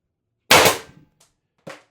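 A 4x12g CO2 stock-build air gun fires in a test: one sharp, loud crack that trails off, then a second quieter shot about a second later, with silence in between.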